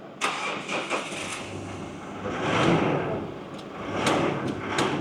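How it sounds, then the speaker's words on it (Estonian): A car engine cranks with a few sharp clicks and mechanical clatter, then catches and swells into a rising, rumbling idle that ebbs and surges again, with some knocking transients near the end. "Nii, paneme auto tööle."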